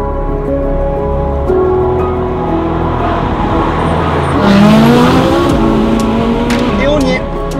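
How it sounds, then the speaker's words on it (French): A Ferrari 458 Spider drives with a loud, steady engine drone and rising and falling revs up close, while someone talks over it throughout. "Le moment où on va pouvoir rouler dans notre 458 Spider."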